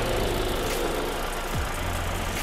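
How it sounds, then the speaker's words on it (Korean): The 2.4-litre engine of a Hyundai Grandeur IG idles with the engine bay open, producing a close, even, continuous hum with a steady low drone and no voices over it. "엔진 소리도 일정합니다."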